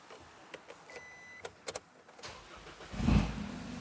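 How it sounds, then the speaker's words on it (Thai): A few faint clicks precede a 2022 Isuzu D-Max 1.9 pickup truck engine cranking and catching, then settling into a low, steady idle with a soft exhaust rumble. "เสียงท่อก็ดังนุ่มๆนะครับผมเครื่องก็สตาร์ทติดง่ายนะครับ"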